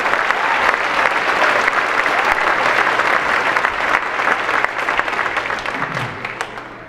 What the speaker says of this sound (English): Let's give our parents and family and friends and everyone a round of applause